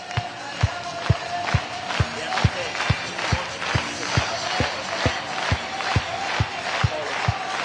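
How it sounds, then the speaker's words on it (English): A stadium crowd of about 10,000 at a Savannah Bananas vs Party Animals baseball game in Columbus claps in a steady, rhythmic beat with cheering and shouts rising around it, loud and continuous throughout. "Clap those hands."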